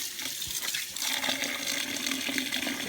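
Water runs steadily from a tap as freshly dyed yarn is rinsed, a continuous, soft splashing flow with small irregular spatters.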